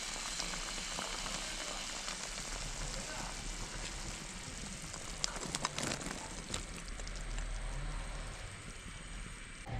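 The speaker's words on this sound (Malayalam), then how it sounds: "ഇനി നമുക്ക് നെല്ലിക്ക ചേർത്ത് കൊടുക്കാം." Gooseberries drop into a thickening, boiling pickle mixture, giving a soft steady sizzle and bubbling with a few brief clatters in the middle, faint and close throughout.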